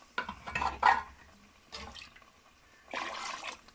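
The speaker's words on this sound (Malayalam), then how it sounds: "അതിൽ നിന്ന് തന്നെ വെള്ളം എടുത്തൊഴിച്ച് കൊടുക്കാം." Hot water poured from a heated pot into a Kerala-style curry pot, heard as a few short close splashing bursts with faint clinks of metal cookware between them.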